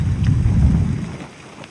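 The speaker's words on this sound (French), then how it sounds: "Tellement trempé, tellement il pleut," Heavy rain pours down during a thunderstorm in Italy, a dense, loud wash of downpour with deep low rumble, easing slightly toward the end.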